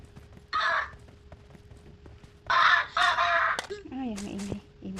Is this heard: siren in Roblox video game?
no